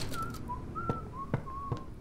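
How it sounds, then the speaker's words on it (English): Whistling in a video game: a steady, tuneful whistle of sustained notes rising and falling, with three soft thumps spaced under it and a low ambient hum behind. "Is it me who's whistling?"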